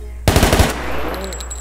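A machine gun from the Minecraft Decimation mod fires a quick, loud burst of rapid shots in close succession. A ringing, fading tail follows in a quieter game scene.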